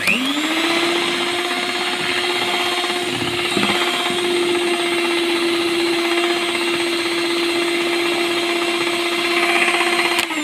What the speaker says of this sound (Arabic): سمحوا لي على الصوت تاع الفاتور